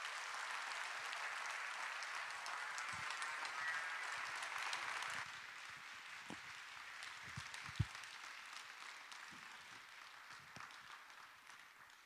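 A church congregation at a Sunday service applauds to welcome the pastor; the clapping is steady and fairly faint for about five seconds, then thins into scattered claps and room noise.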